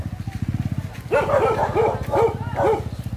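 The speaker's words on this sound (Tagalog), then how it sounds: "Tahol pa lang, napakalaki na." A large dog barks in a rapid, loud series of deep barks close by, starting after a second of low rhythmic background rumble.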